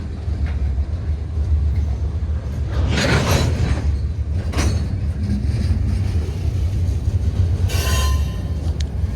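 Freight train cars of Canadian National train M324 rumble past close by in a steady low roar, with screeching metal bursts and rattling wheels as the cars roll through.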